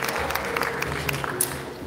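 Audience applause at the Pune International Film Festival for Mr. Ravi Gupta, a brief burst of scattered clapping with a few sharp individual claps.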